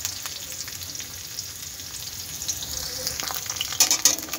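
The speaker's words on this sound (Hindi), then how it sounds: "तो इसको हम अच्छे से फ्राई करेंगे। प्याज को हल्का हल्का ब्राउन होगा" Onions frying in a pan until golden brown, a steady close sizzle with faint crackles that grows busier and louder toward the end, with a few brief scrapes.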